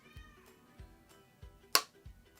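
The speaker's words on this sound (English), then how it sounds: "my cat is standing outside, meowing" A house cat meows outside a door, one clear meow among faint soft thumps, with a sharp brief noise burst near the end.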